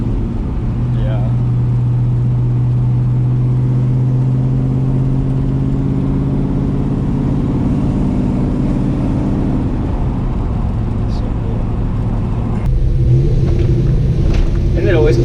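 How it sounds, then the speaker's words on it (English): A hot rod engine rumbles steadily while driving, loud and continuous with a low drone and a slight surge near the end, as people talk inside the car over it. "Isn't it always cool driving some of these hot rods?"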